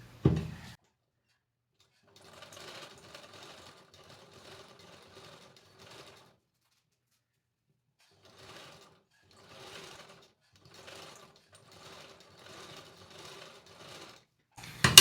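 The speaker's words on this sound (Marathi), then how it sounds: "तर आता आपण याला स्टिच करून घेऊयात।" A sewing machine stitches a drop-shaped sleeve in several short bursts of rapid mechanical chatter separated by pauses, fairly quiet and close, with no talk over it.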